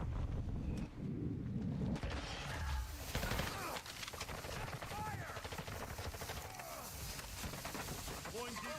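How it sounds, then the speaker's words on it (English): Gunfire in the Warzone battle royale game, with rapid bursts of shots and impacts at close to mid range under a continuous mechanical drone, while someone talks over it. "there's a guy like right there shooting"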